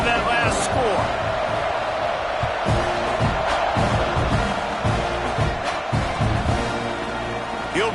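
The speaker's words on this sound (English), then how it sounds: "this crowd is buzzing after that last score" Stadium crowd at a college football game between NCAA and Duke keeps up a loud, steady buzz after a score, with scattered thumps and a commentator talking over it throughout.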